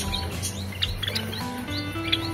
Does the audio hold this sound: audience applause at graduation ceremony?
no